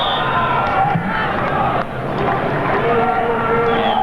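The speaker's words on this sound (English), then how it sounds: "Not a bad crowd on hand, an enthusiastic crowd certainly." Enthusiastic crowd noise fills the stands at a 1985 youth World Cup football match between Saudi Arabia and Brazil, a steady loud roar with swells of cheering, heard from a distance under the broadcast.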